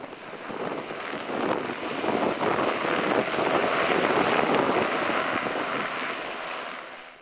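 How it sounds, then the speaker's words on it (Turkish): A T-70 firefighting helicopter hovers over a water source to refill, its rotor wash roaring with loud churning water spray and wind noise building and holding steady before fading slightly. "Nefes T-70 helikopterinin su kaynağından su alma anları kameralara yansıdı."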